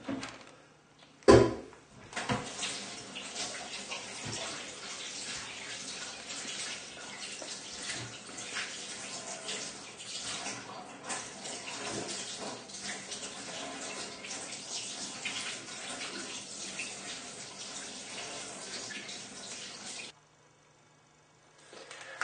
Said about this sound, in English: now obviously you need to go and give your hands a good wash